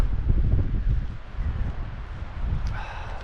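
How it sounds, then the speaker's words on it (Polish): Wind gusts buffet the microphone at a seaside beach in Ustka, a loud low rumbling roar that surges and eases throughout, with a faint higher tone near the end. "nie wiem czy mnie będzie słychać przy tym wietrze"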